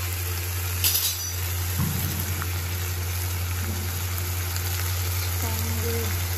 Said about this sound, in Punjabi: ਟਮਾਟਰ ਆਪਣੇ ਡਾਲ ਗਏ ਹੁਣ ਆਪਾਂ ਵਿੱਚ ਪਾ ਦਈਏ ਇਹਦੇ ਮਿਰਚ ਮਸਾਲਾ